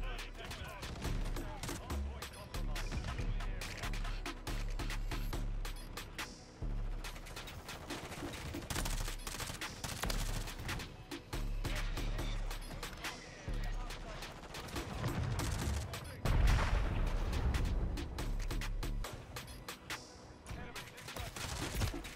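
Rapid full-auto gunfire in Call of Duty: Modern Warfare III with a Lachmann Shroud, dense bursts crackling almost nonstop across the clip with short gaps and heavier booming shots, loud and close.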